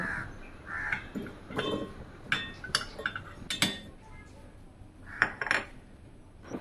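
Carrot being ground into a paste, heard as irregular rasping strokes and clattering knocks, close and uneven, in bursts separated by short pauses.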